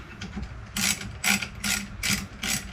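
A seized two-stroke outboard engine's flywheel is rocked back and forth by hand, giving five or six short mechanical ratcheting clicks and scrapes that come in an uneven rhythm, close by and with no talk.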